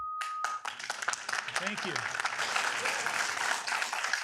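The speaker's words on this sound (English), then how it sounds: "While I appreciate the applause, it's going to hold us up all night" Audience applause bursts out at a city council meeting in Downey, a dense round of clapping that holds steady throughout, with a brief spoken thanks near the start.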